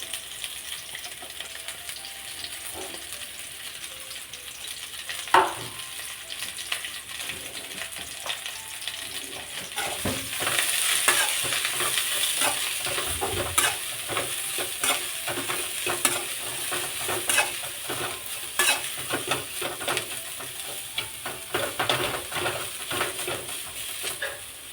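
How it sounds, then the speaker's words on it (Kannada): Bitter gourd fries in oil with tamarind juice, a steady close sizzle with repeated scraping and stirring clatter of a utensil against the pan, growing busier partway through, with no talk. "ಎಣ್ಣೆ ಮತ್ತು ಹುಣಸೆ ರಸ ಹಾಕ್ಕೊಂಡು ಹುರಿಬೇಕು, ಆವಾಗ ಅದರಲ್ಲಿರೋ ಕಹಿ ಎಲ್ಲ ಕಡಿಮೆ ಆಗುತ್ತೆ"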